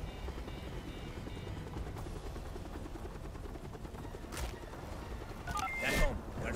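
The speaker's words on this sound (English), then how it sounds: "requesting chopper going in above" Helicopter in the video game Call of Duty: Black Ops Cold War, its steady low rotor drone running continuously beneath game effects and voices, with a brighter burst near the end.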